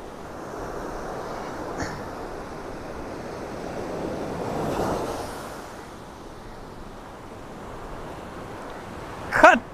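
Ocean waves crash and wash steadily at Anjuna Beach, Goa, a continuous broad roar swelling midway, with wind buffeting the microphone and a brief close bump at the end.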